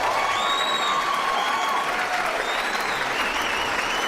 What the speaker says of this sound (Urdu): بہت ساری تالیاں